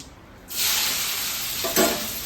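Onion, garlic, ginger, green chili and curry leaves hit a hot pan on a stove and start sautéing, a sudden close hiss that settles into steady sizzling with a brief stirring scrape near the end.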